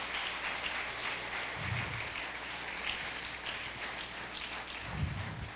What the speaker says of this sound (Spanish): ¿Alguien puede darle un aplauso a Dios?